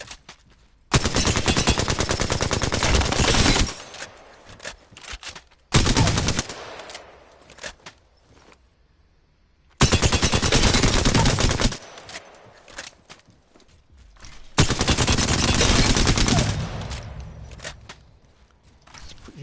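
The Alternator submachine gun from Apex Legends, fitted with a gold barrel, digital threat sight and extended light mag, fires in several loud, rapid bursts with short gaps of near silence between them.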